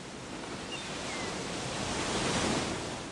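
Ocean surf rolls in at Malibu beach as a steady broadband wash of breaking waves, swelling slightly louder toward the end with no voices or other sounds.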